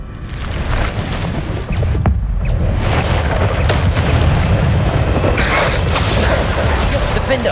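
Bombarda spell explosion in the wizarding game Hogwarts Legacy: a loud, dense blast of booming and crashing debris that keeps rolling for several seconds, close and heavy, with sharp bright cracks near the end.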